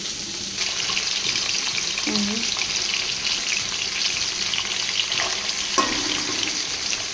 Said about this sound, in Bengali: কড়াই বসে দিয়েছি, গরম হয়ে গেছে তেল, আর মাছ কটাকে ভেজে নেব।